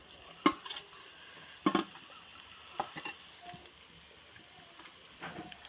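Chillies dropped into hot oil with browned onions in an iron kadhai give a soft sizzle, broken by a few sharp clinks and scrapes from stirring, close by and with no talking.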